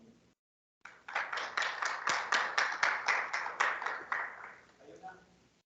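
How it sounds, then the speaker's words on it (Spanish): Clapping for the lecturer at the end of a spatial-temporal modelling course, a short burst of about a dozen fairly rhythmic claps from a small group after a brief pause, trailing off into a voice. "le damos un aplauso"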